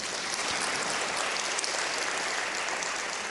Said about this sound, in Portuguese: Janete Vargas Simões, uma salva de palmas